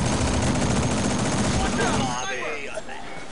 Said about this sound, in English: Other sniper's shooting me too.